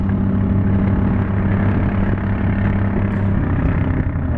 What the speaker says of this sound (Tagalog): Parang 4DR5 ang makina no.